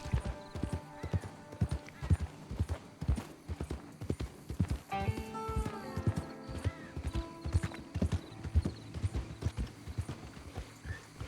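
A horse's hooves clip-clop at a steady trotting rhythm in Red Dead Redemption 2, loud and close, continuing throughout with a brief whinny and game music mixed in.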